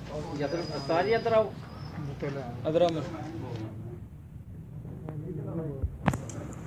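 Soft throaty pigeon coos sound on a rooftop alongside someone talking nearby, with a brief sharp click near the end.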